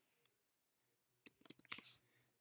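A few quick keystrokes on a Mac computer keyboard in a quiet room, a lone tap followed by a short cluster of close clicks.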